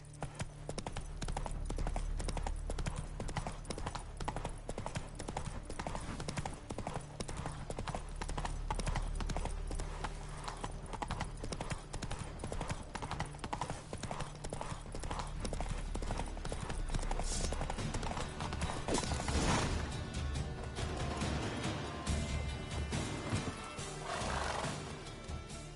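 Horse hooves from The Witcher 3 clip-clop in a steady, fast rhythm throughout, with a whinny or snort rising near the end over a continuous game background.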